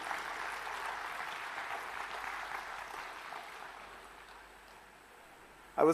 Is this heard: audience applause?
yes